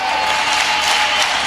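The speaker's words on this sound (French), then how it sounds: "On peut applaudir le Seigneur puissamment." Applause from a church congregation at a special combined worship service, a dense steady wash of clapping filling the room with no pauses and no voices standing out.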